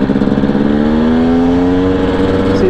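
A KTM/Husqvarna TPI two-stroke dirt bike engine held under throttle, its loud close drone rising slowly in pitch with a steady buzzing tone while the engine pings. No speech is heard.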